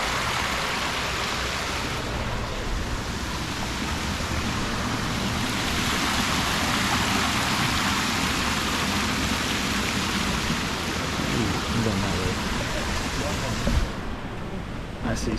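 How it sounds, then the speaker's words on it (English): Steady, dense rushing of falling water fills the scene at close range, a continuous roar with faint voices underneath. "But we gotta look at the waterfall first."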